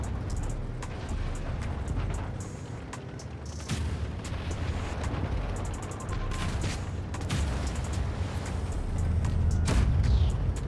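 Repeated booming cannon blasts from the Strv K tank in WoT Blitz, heavy and low, fired at irregular intervals while moving, over a constant rumbling engine drone.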